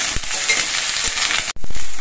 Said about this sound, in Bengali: এবার এই আলু আর বেগুন একসঙ্গে আলু কিছুক্ষণ ভেজে নেব।